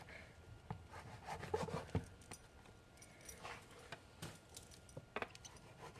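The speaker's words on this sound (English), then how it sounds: "I'm going to cut off the dirt part." A knife scrapes and cuts dirt from the base of a giant puffball mushroom, giving soft, close rasping strokes with a few sharper ticks, quiet and alone.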